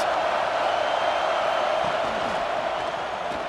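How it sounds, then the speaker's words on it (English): Steady roar of a stadium crowd cheering for the defense in the College Football 26 video game, Vanderbilt vs. Virginia Tech on PS5, a loud continuous wash of noise without a break. "this crowd getting behind its defense."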